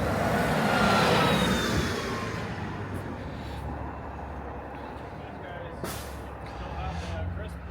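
A city bus pulls in at a stop on a busy street, its engine rumble and air brakes hissing up close amid traffic noise, with people talking nearby.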